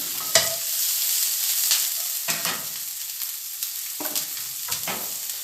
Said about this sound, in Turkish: Öncelikle tavama yağ döküp soğanların içerisine atıyorum.